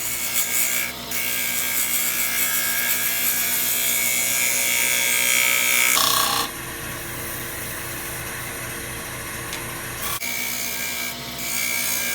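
A woodturning tool, its edge dulled by epoxy, is sharpened against an abrasive in a steady, close grinding rasp with a brief pause and a changed tone in the middle section.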